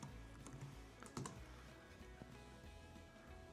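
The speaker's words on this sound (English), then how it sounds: "Let's type in my YouTube channel" Quiet typing on a computer keyboard at a desk: soft, irregular key taps with a slightly louder cluster near the middle, close but low in level, with no voices.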